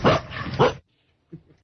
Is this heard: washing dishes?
no